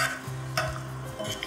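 A spoon stirs salt, sugar and green chillies into a curd gravy in a pot, with close scraping and light clinks against the metal and a faint low hum underneath, no talking.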